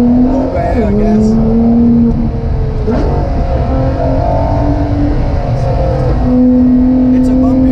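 Ferrari LaFerrari engine droning under a steady loaded tone during rally driving on a bumpy road, with pitch dipping and rising as it shifts and accelerates, heard from inside the car.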